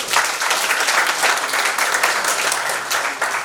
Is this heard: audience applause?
yes